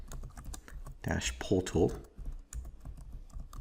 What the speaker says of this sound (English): now we can start typing in our information.